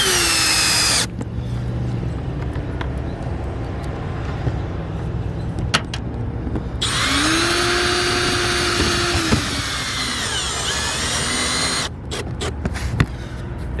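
A power drill drives screws into a roof vent on an RV, its loud whine rising and falling in several long runs with short pauses between bursts, close by and without speech.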